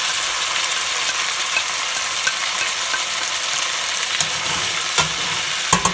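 Meat, onions, tomato paste and spices sizzling loudly in a frying pan while being stirred, a steady close hiss with a few faint scrapes and taps of the utensil near the end, no speech.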